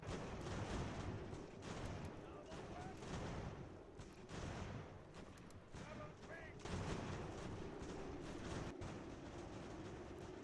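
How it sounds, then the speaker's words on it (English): Artillery fire in the Revolutionary War strategy game Ultimate General: American Revolution, a dense wash of distant booming cannon and musket crackle rolling on continuously, fairly faint, with occasional sharper reports. "They've got a lot of artillery in here."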